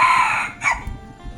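A chicken on a rural Lao village farm gives a loud call with a drawn-out crow-like tone, followed by a brief second squawk, then quieter low thumps; no voices.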